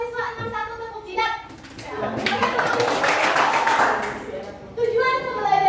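Students in a statistics class perform a call-and-response routine of hand claps, thigh pats and finger snaps. A dense burst of percussive slapping builds in the middle, with a teacher's voice leading before and after.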